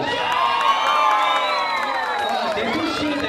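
Spectators at a São Francisco running race podium cheer and shout, with high whoops and children's voices rising over a loud, sustained crowd roar that swells and dips throughout.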